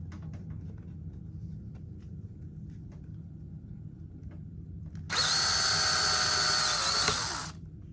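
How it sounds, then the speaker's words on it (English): A power drill whirs loudly for about two seconds drilling holes in a mount before winding down, preceded by quiet room rumble and faint taps. "now I'm just going to hold this up here and drill where I need the holes to be"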